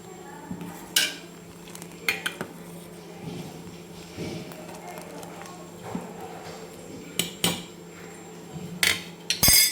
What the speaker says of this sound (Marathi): आपण त्याच्यामध्ये कोथिंबीर टाकून घेऊ वरतून आणि मिक्स करून घ्यायचं